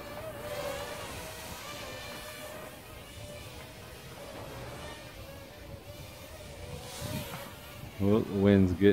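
A Fineco FX-3V quadcopter drone hovers and flies outdoors in wind with its battery running low, its steady insect-like whine carrying a shifting pitch, then a brief louder rough patch near the end.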